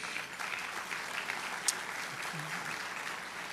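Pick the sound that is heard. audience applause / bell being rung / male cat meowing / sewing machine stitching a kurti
audience applause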